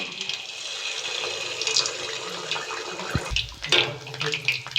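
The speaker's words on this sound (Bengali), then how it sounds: "তেলটা গরম হয়ে গেছে আমি এবার ভেজে নেব" Maida flour dough for pitha fries in hot oil with a steady, close sizzling hiss, broken by a few louder crackles and pops toward the end.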